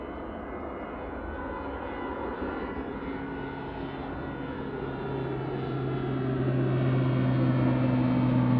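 An Airbus A380 jet taking off at full power from Manchester Airport in the evening, a broad continuous roar with a steady engine drone that grows gradually louder, heard from a distance with no talk.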